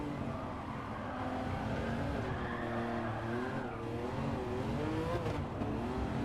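Race car tires in a racing video game squeal and slide through corners, a continuous wavering screech over a steady engine drone, loud and unbroken throughout.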